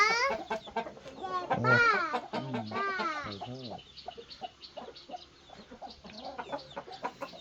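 Fighting chickens clucking and calling nearby on a gamecock farm, with a loud burst of squawking near the start, then softer intermittent clucks continuing through the rest.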